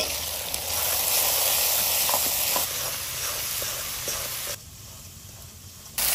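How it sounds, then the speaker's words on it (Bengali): Spice paste with salt, turmeric and a splash of water fries hard in a pan, a loud, steady close sizzle that dips quieter for a moment before surging back. "এইবার এই মশলাটা আমি ভালো করে কষাবো।"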